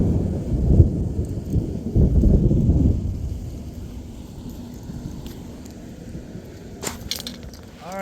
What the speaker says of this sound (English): It's starting to thunder.